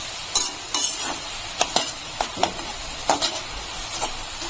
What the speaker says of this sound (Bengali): এখন এই যে এগুলো তো খুন্তি দিয়ে নাড়িয়ে দিতে হবে।